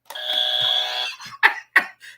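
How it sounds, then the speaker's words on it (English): A small handheld novelty buzzer gives one sustained electronic buzz of about a second, followed by two short sharp bursts, close and loud with no talking. "Got a little buzzer."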